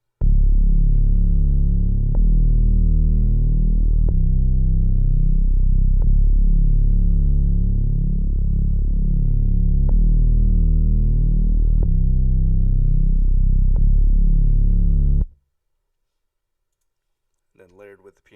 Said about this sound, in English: This is the bass I got from Omnisphere, and it sounds like this.